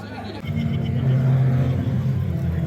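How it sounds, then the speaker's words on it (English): BMW 116i Trophy race cars idling and rumbling as they line up in the assembly area at Brands Hatch, a close low engine burble that swells after a brief quieter start, with a voice speaking over it. "all of our trophy cars are lining up in the assembly area ready for our race"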